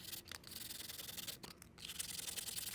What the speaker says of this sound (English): we'll just sand a little bit and then we'll check our fit